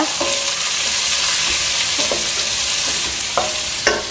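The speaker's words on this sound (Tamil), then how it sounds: "அடுத்தது சின்ன வெங்காயம், அடுத்தது பூண்டு பற்கள் எல்லாத்தையும் நல்லா கலந்து விடலாங்க." Chilies, shallots and garlic stir-fried in a pan for a Tamil tomato kootu, giving a steady, close sizzle with repeated scraping stirs of a utensil against the pan and no talk.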